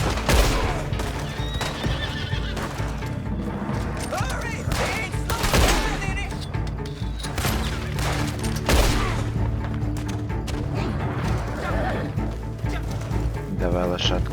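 A horse in the Red Dead Redemption 2 online video game whinnies loudly several times amid hoof clops, thuds and bursts of gunfire, with someone speaking Russian over the action.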